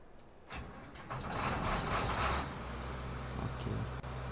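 A combine harvester engine in the Farming Simulator 13 video game cranks and starts up, rising into a steady low rumbling idle that runs on for several seconds with small fluctuations.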